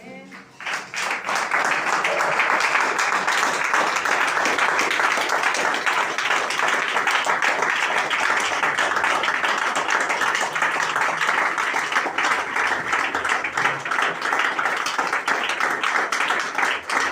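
Church congregation applauding to acclaim the Lord: loud, sustained clapping from a large crowd that rises in the first second and holds steady and dense for the rest of the clip.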